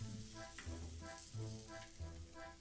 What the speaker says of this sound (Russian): жду, когда сковородка нагреется, и начинаю наливать тесто.